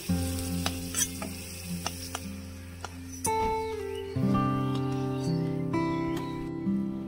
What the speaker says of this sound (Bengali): রসুন বাটা আছে, রসুনটা আগেই দিচ্ছি তেলের মধ্যে, তারপরে দেবো পেঁয়াজ।